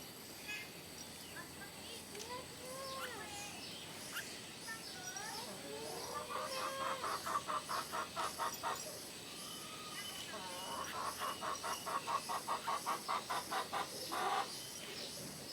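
A bird clucks in rapid, rhythmic bursts of short repeated notes, fairly faint and close, in two long runs separated by quieter calls, with people talking in the background.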